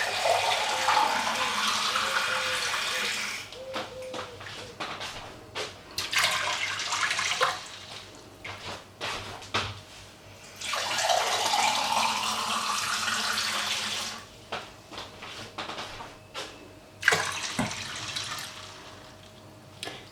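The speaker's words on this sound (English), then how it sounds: "So we're going to add around 3 pint glasses of water." Water poured from pint glasses into a cooking pot of peas for Jamaican rice and peas, coming as several separate splashing pours with short pauses between them.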